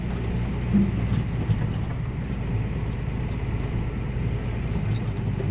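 A tractor engine idles down at the end of a field, rumbling at a low, steady idle, droning continuously with slight fluctuations and no voices over it.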